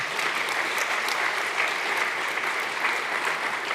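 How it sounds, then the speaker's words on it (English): A conference audience at a Python programming lightning-talk session claps steadily for a few seconds, a moderate, even wash of many hands applauding without voices over it. "Just, clap."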